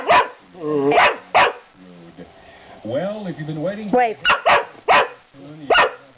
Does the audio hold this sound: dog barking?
yes